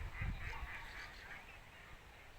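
Ducks far off outdoors in Spain give faint, scattered honking quacks for about a second amid low rumbling background noise, quiet and distant.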